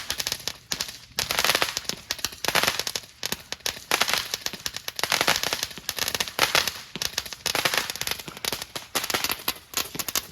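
Dense, continuous crackling and popping from fireworks going off outdoors on the 4th of July at a barn, with rapid bursts of firecracker-like bangs that swell and ease in waves throughout.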